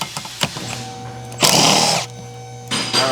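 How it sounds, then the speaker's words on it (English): An impact wrench with a 15 mm socket zips the wiper arm nuts off a Ford Escape: two loud, close bursts of whirring rattle, each about half a second long, separated by a short pause and set among scattered clanks of tool handling. "if you get a good impact with a 15 on it, just bust those nuts right off there"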